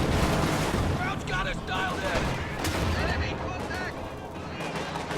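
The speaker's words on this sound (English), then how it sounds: "Takes a walloping from all of these anti-tank guns though." Anti-tank guns pounding a Panzer IV in Company of Heroes 2, with dense overlapping battle gunfire and booming shots throughout amid a busy wartime mix, steady and loud.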